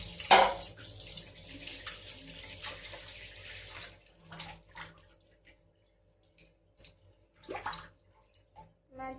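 Fish is rinsed under a running tap, a loud gush of water at the start followed by quieter splashing and handling in bursts, with brief louder rushes later.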